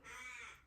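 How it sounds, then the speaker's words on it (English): A single loud, near caw from a crow outdoors, harsh and drawn out for under a second, heard alone. "I've got a really noisy crow out here chatting"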